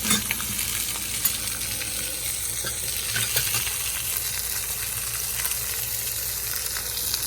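Steak fajitas sizzle and crackle in a very hot wok with the lid on, giving a continuous, fairly quiet frying hiss with small pops scattered throughout and no voices.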